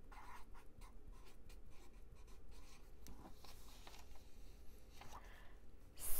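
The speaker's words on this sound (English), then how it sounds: "Next, I'm going to write texture." A marker writes a word on a paper art chart, giving quiet, close, intermittent squeaky strokes and taps in short bursts, with no talking.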